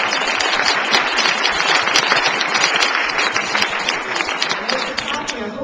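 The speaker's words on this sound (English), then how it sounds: "I hope you're clapping for yourselves" A large audience at a National Day of Service event applauds steadily, dense sustained clapping filling the space at even loudness with no pauses.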